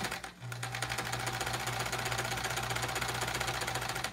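A home sewing machine stitching quilt pieces runs as a steady, rapid mechanical clatter with a repeating knocking 'kerchunk' in each stroke, continuous and close with no talking.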